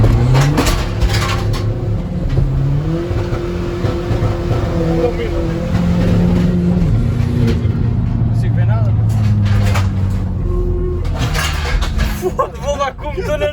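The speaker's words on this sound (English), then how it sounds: "Inside the van, gonna take for a quick test drive, and Tiago's gonna hold the camera for me." VW Caddy van with a tuned PD130 diesel engine pulling hard on a test drive, a steady engine drone with rising and shifting pitch through gear changes, heard from inside the cabin with people talking over it.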